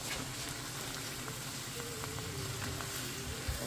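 Garlic and onion sizzle steadily in a hot pan, a dense, even crackle of frying that holds at a moderate level throughout, with a soft clink near the end.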